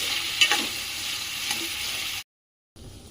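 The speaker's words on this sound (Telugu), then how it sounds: "ఆయిల్ వేసేసుకున్నాండి. మంచిగా ఫ్రై చేసుకోవాలి." Potato pieces frying in oil, a dense close hiss with a couple of stirring knocks, cutting off briefly to silence before the sizzle resumes faintly.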